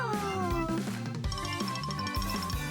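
A cartoon cat in a Toca Boca game gives a drawn-out, falling meow, followed by shorter mews, over light background music.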